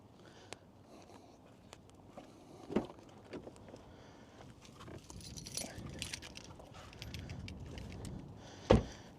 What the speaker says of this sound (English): Let me grab the keys real quick.